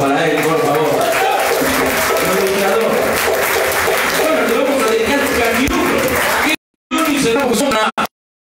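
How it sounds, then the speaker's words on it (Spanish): A crowd at a tango milonga applauds Héctor with loud, sustained clapping that fills most of the stretch, voices mixed in, before cutting off abruptly. "el aplauso para él, por favor"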